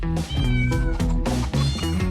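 A house cat meows repeatedly and loudly up close, a series of drawn-out, wavering cries with brief gaps between them and no talking.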